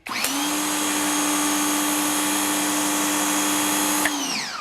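A HART 1800psi electric pressure washer running with a 25 degree nozzle, a loud steady motor whine starting abruptly, holding evenly, then winding down at the end.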